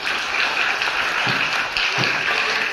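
An audience at a school magic show at Basaveshvar International School in Guledagudd claps steadily, a dense and even burst of applause that lasts throughout.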